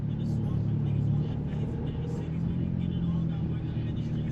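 An idling Honda Civic engine running rough with a worn clutch, a close, steady low rumble with slight unevenness, and someone speaking over it.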